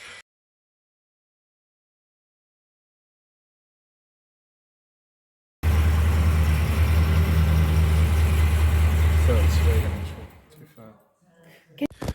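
Classic car engine running after a stretch of silence, a loud, steady low rumble for about four seconds that cuts off abruptly, followed by faint handling noises.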